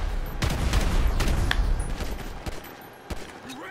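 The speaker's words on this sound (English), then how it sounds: "Explosive bullets, this will do some damage." Explosive and flaming bullets fire in the video game GTA V as a rapid fusillade of loud, overlapping shots and bangs, thinning out to a few scattered blasts toward the end.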